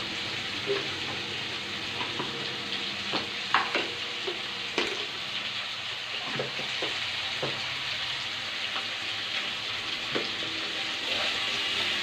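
Local chicken curry is stirred in a hot pan: a soft, steady sizzle runs throughout, broken by intermittent utensil scrapes and clicks at an unhurried, irregular pace, with no voices.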